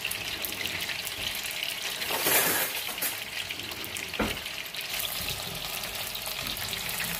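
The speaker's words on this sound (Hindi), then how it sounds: "इसी तरह हम सारा चिकन अपना फ्राई कर लेंगे।" Chicken deep frying in hot oil fills the clip with a dense, steady sizzle and bubbling up close, with a couple of brief louder surges as pieces are stirred or moved.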